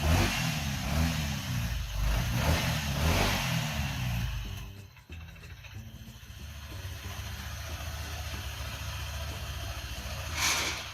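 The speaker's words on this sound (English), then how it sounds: "the engine is starting now." A motorbike engine runs just after starting: loud, rough revving at first, then settling into a steadier, lower idle with a brief rise near the end, heard alone without talk.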